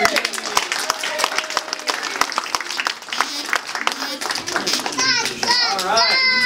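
Scattered clapping from an audience at a school science fair, mixed with children's chatter and voices over the top, fairly close and busy.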